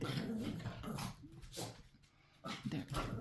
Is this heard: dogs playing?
yes